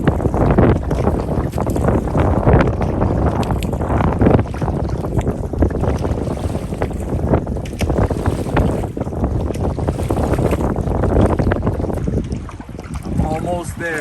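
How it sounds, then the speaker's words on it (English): Strong gusting wind roars across an open lake in Algonquin Park around a solo canoe, a dense, loud, continuous rush buffeting the microphone with water and boat noise, steady throughout with no talk. "Wind is ripping."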